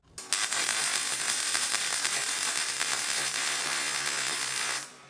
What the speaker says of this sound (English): Now we have one nice big spot weld.